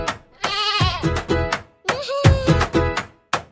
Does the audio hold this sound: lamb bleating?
yes